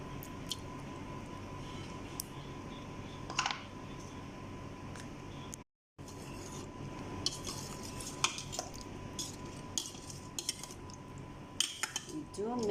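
Boiled ravioli is mixed in a pan with metal utensils, light clinks and scrapes scattered irregularly, close but quiet, with a brief gap midway and some faint talk.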